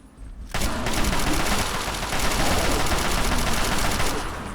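Sustained gunfire from Fallout 3 starts abruptly after a brief quiet moment, then holds as a dense, loud rapid-fire burst with no let-up and no voices.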